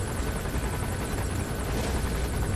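A helicopter in the video game Metal Gear Solid V roars continuously and loudly, a dense rotor thrum with rapid rhythmic chopping throughout.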